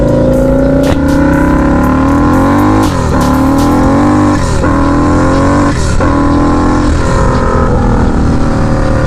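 A loud car engine revs and drops repeatedly, with brief sharp hissy turbo blow-off valve bursts between throttle changes, close by.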